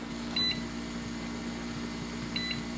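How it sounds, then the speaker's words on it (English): A canner gives short electronic beeps, a quick pair near the start and another pair near the end, over a steady low hum. "that's the 4 beeps telling us it is done"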